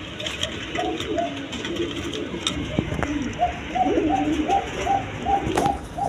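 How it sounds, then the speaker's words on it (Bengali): Fancy-breed pigeons, including a pair with chicks, give repeated soft throaty coos in a steady series, heard close up over a light background bustle. "খুব জাতের কবুতর"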